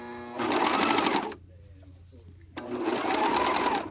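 A serger overlock machine runs in two loud bursts while sewing a blind hem on knit fabric, each burst a steady mechanical whir, with a quieter pause between them.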